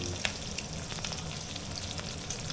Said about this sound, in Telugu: ఇగో ముందుగా ఉల్లిపాయలన్నీ పాయలుగా తీసి వేయించుకుంటున్నానండి.